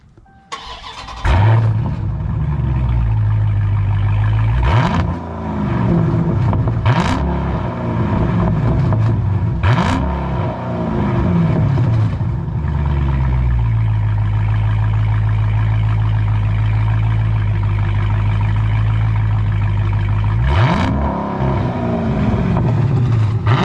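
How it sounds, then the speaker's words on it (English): A Dodge Challenger Scat Pack V8 with muffler and resonator delete cranks over and settles into a loud, deep idle, then three sharp revs rise and fall before idling again and a final rev near the end, close up. "crank it up in regular, rev it 3 times"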